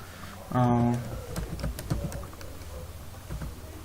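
Someone types a zip file name on a computer keyboard, close, rapid irregular key clicks following a short burst of speech.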